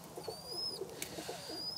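Birmingham Roller pigeons give soft, low cooing calls close by in a quiet loft, a few gentle throaty notes over faint background hiss.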